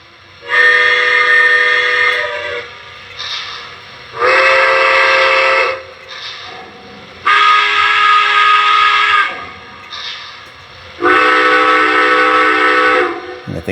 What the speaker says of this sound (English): It's like a hooter whistle.